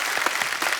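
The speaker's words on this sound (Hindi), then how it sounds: "तालियां और जोर से होनी चाहिए जरा" A studio audience at a comedy talk show applauds, with a brief burst of dense clapping heard close and steady.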